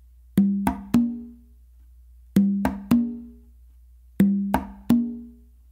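Conga guaguanco tumbao pattern of open tones and sharp close slaps, three-stroke groups repeating in an even, steady cycle with clean pauses between, close-miked, crisp attacks and short ringing decay, no talking.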